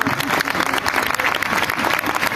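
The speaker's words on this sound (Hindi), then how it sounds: "तालियां बजाइए" Sustained, dense applause from an audience at a live Hindi music program right after a song ends, steady and fairly loud throughout with no talk.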